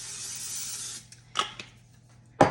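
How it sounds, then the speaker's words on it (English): A one-second hiss of coconut oil sprayed from a can into a soup pot, close and fairly soft, followed by a couple of faint clanks of cookware. "I'm just gonna spray a little bit of coconut oil here."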